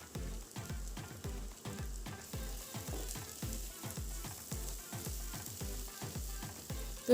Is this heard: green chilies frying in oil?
yes